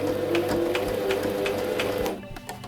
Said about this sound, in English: I'm going to hold down the reverse footer and go back into my stitch